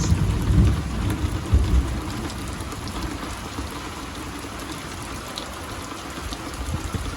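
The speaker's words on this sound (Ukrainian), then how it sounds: "Ну і що, у нас такий дощ." Heavy rain pours down steadily in a dense, continuous hiss, with low thunder rumbles near the start before the downpour continues alone.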